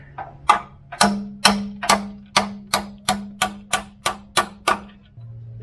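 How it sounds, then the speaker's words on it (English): A hammer strikes a steel wedge on a Toyota FZJ105 Landcruiser during servicing, roughly a dozen sharp, ringing metallic blows in a steady, quick rhythm, close and loud. "you can kind of get a bit of a swing on the hammer"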